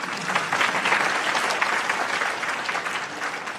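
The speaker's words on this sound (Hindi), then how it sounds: "तो बजाओ ताली" Listeners at a spoken talk on death break into sustained clapping, a dense even round of applause from a seated audience.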